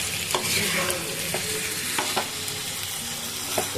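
A spoon stirs a hilsa fish head mixture with water in a pan, scraping and clinking lightly at irregular moments over a soft, continuous sizzle, close by and with no voices.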